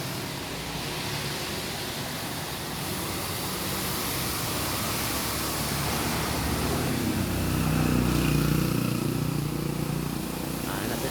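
Steady broadband rain falling on a street, a continuous even hiss with passing vehicle rumble swelling slightly near the end; no speech.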